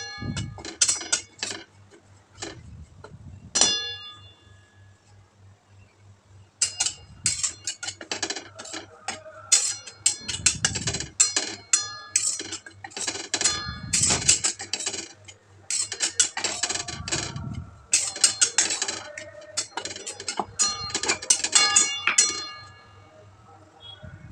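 A spatula scrapes and clinks against a pan while dry grated coconut is stirred for ladoos, giving repeated bursts of rattling, ticking strokes with short pauses between, close and fairly crisp, with little or no talk.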